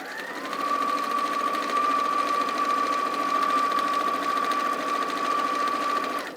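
A sewing machine stitches through several fabric layers along a seam, running in one steady high whirring buzz from start to finish, close and continuous with no talking.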